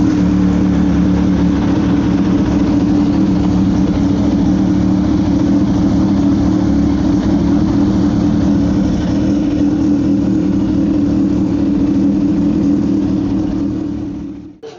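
A 2018 Kawasaki Ninja H2 motorcycle engine runs at a steady, loud idle close by, a continuous low rumble holding evenly before cutting off at the end, with no talk.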